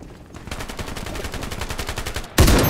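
Rapid automatic gunfire from the video game Ironsight, a fast even string of close, loud shots for about two seconds, cut off by a sharper burst at the end.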